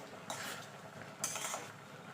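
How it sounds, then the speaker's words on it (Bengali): A spoon stirs jujube pickle with added spices in a metal pan, giving two bursts of scraping and clinking against the pan, one early and one about a second later, close and fairly quiet. "এবার দিয়ে দেবো মশলা খুব বেশি মশলা দেবো না এবার ভালো করে নেড়ে নেবো"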